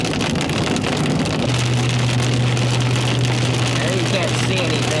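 Heavy rain hammers steadily and loudly on a vehicle during a tornado chase, a dense unbroken roar with a low engine hum running beneath it.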